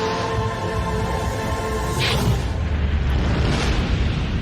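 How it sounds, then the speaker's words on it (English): A big explosion in a World of Warcraft Legion cinematic, a dense, continuous roaring blast with rumbling low end and a sharp burst near the midpoint, loud and sustained throughout. "explosion"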